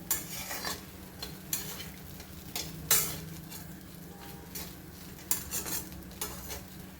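Kande pohe is stirred with fried peanuts in a sizzling pan, with a soft frying hiss and repeated close scrapes and clinks of a spoon against the metal at irregular intervals.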